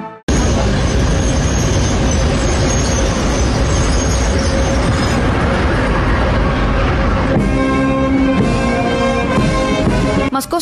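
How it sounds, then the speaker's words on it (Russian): A Russian Defence Ministry train pulls into the Moscow railway station in Nizhny Novgorod, loud and close throughout, with steady rumbling rolling noise, rattling carriages and rising wheel squeal toward the end. "Поезд Минобороны «Сила в правде» прибыл на Московский вокзал Нижнего Новгорода."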